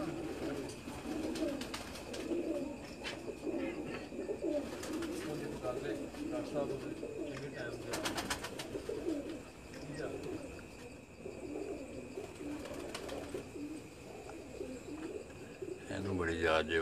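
Pigeons coo softly and repeatedly on a rooftop at night, several birds overlapping in low, rolling calls, with faint chirps and background noise but no clear talk.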